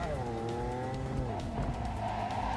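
A luxury car in Cyberpunk 2077 is driven fast, its engine a loud, sustained roar that climbs and then dips in pitch, with faint tire noise beneath. The sound holds steady throughout.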